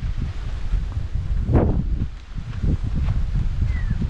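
Gusty wind buffets the microphone with a constant low rumble, surging and easing, while tents rustle nearby at an overlook campsite.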